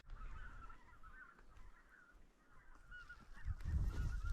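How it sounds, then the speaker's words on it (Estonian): Geese gathering on Endla lake honk repeatedly in a loose, continuous chorus at moderate distance, with low wind rumble swelling near the end. "Haned kogunevad"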